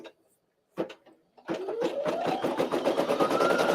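An embroidery machine stitches a stippling fill on a 5x7 design, starting with a few short bursts and then settling into a steady, close, rapid mechanical chatter that rises slightly in pitch.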